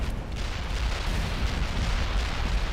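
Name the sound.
artillery barrage explosions in video game World in Conflict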